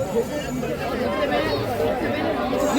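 Dense crowd chatter at the entrance of a busy Indian fair (mela), many overlapping voices forming a steady babble close around, with nearby speech mixed in.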